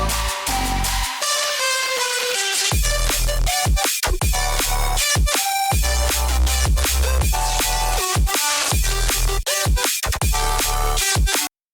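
A dense electronic track with punchy bass, bright synth chords and choppy rhythmic hits plays continuously, with no singing.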